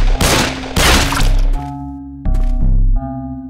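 Bullets striking a trash can lid held as a shield in the horror game The Happyhills Homicide, loud close impacts with bright metallic clangs followed by ringing tones and game music.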